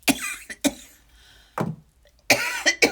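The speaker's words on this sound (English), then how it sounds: "now I'm going to be coughing" A person coughs several times in short separate bursts, close and fairly loud, with quiet pauses between them.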